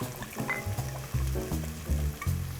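Bordeaux red wine poured into a hot Instant Pot after cooking coq au vin hits the pan with a steady close sizzle and bubbling hiss, swelling in a few pulses as the liquid splashes in.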